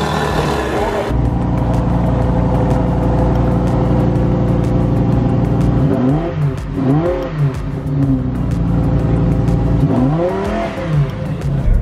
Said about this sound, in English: That's a dope exhaust.